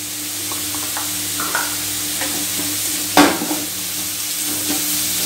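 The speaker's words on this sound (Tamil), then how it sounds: "கேரட் வேகிற அளவுக்கு நல்லா வதக்கிக்கணும்" Salted carrots sautéing over a full flame in a pan, a continuous close sizzle with light scraping stirs and one sharp utensil clank near the middle; no voices.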